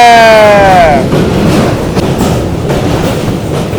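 The Bhrigu Superfast Express running on the tracks between Delhi and Varanasi, loud and close, with a ringing wheel squeal fading in the first second into a steady rumbling clatter of carriages.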